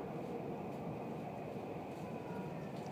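A Tobu Limited Express Ryomo train runs on the Isesaki Line between Isesaki and Ota, heard from inside the carriage as a steady, muffled low rumble and wheel hum with no pauses.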